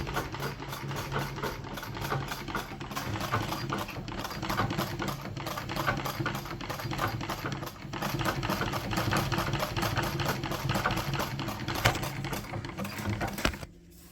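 An antique Howe sewing machine stitching, a rapid, steady mechanical clatter of needle strokes running continuously, fairly quiet and close, before stopping abruptly at the end.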